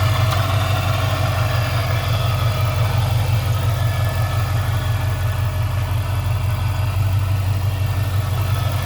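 A supercharged 2009 Dodge Challenger SRT8 with a V3 Vortech supercharger, RS1 intake and six-speed manual idles steadily with a deep, loud, close engine rumble and no voices.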